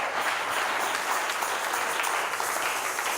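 A church congregation applauding the Lord Jesus during worship, with dense, sustained clapping that stays steady and loud from start to finish, no break in the crowd noise.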